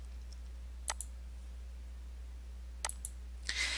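A few sharp computer-mouse clicks while items are selected in design software, spread apart across a quiet stretch, close and fairly faint, with a short rustling burst at the end.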